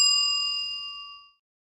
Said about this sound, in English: I'm getting ready to sound this bell in a minute